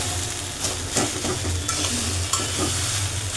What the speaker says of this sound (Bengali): এখানে ভর্তা শাক রান্না করতেছি, পেঁয়াজের কলি দিয়ে ভাজি করতেছি।